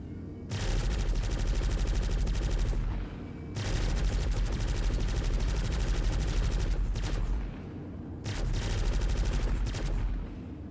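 Rapid automatic fire from the remote turret of the Greycat MTC vehicle in a video game, loud and continuous in three long bursts separated by short pauses, with no talking.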